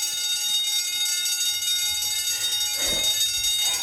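An electronic fire alarm rings continuously with a shrill, steady tone, while a brief low thump and rustle sound partway through.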